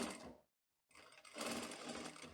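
A sewing machine runs a seam along the very edge, over an overlocked seam on a tailored skirt with a waistband, in a fast whirring burst that stops briefly and then resumes.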